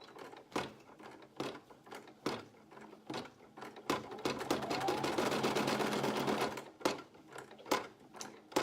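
A single-needle sewing machine stitches an applique onto a burp cloth: short bursts of rapid mechanical clatter separated by brief pauses, with one longer sustained run in the middle, close and fairly quiet.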